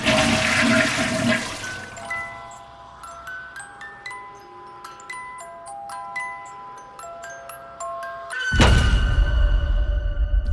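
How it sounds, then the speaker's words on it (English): A toilet flushes in a loud, close rush of water, then a run of bright chiming tones, and a second heavy roaring surge of water near the end. "Flush the toilet if you think it's funny."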